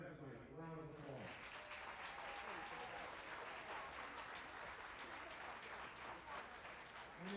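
Sustained applause from an audience at a school band winter concert fills the room, steady and dense, beginning after a brief voice at the start and continuing throughout.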